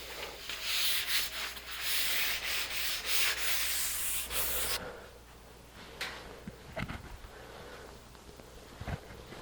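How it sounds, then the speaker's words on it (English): Brisk, rhythmic rubbing strokes of a sanding sponge scuff a chair's finish between coats for several seconds, then give way to quieter, scattered handling noises. "I just got to scuff it up with my sanding sponge again"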